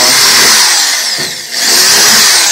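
Power drill boring holes while installing a tub flange, a loud, close, steady high-pitched whine that dips briefly mid-way as the bit slows, then resumes at full speed.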